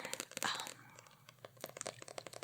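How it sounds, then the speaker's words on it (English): Close, quiet paper sounds: manga book pages rustling and flipping with crisp crinkles and soft swishes in irregular bursts, no talking. "page turning, just general book sounds"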